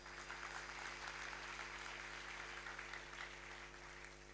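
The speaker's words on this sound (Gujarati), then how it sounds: "મિહિરભાઈ માટે જોરદાર તાળીઓ." Faint, dense applause from a youth camp audience clapping for a participant at an opening ceremony, a continuous wash of hands heard from a distance with no talking.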